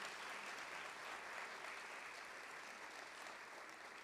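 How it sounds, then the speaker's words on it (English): Sustained audience applause at a fall President's Convocation, steady dense clapping from a large crowd held evenly for the whole stretch with no voices over it. "Please give her a round of applause for her leadership."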